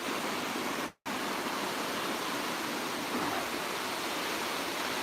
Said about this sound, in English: The water sounds lovely.